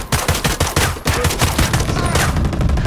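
Rapid rifle fire in the tunnels of Ghost Recon Breakpoint, a loud, close fusillade of overlapping shots crackling without pause across the whole moment.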